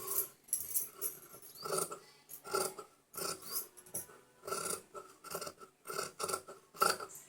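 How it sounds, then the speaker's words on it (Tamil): Scissors cutting through cloth along the edge of a piece, heard as a steady series of crisp rasping snips in short bursts, close and fairly quiet, with no talking. "துணி பார்த்து வெட்டணும்"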